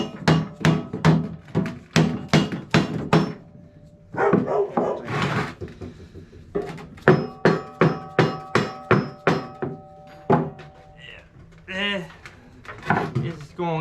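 A hammer drives a part into a twin cam chopper frame, a long run of loud, evenly spaced metal strikes close by, broken by brief pauses and scraping.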